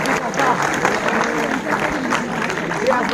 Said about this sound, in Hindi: आप सभी से निवेदन है कि कलाकारों का तालियों के साथ स्वागत करें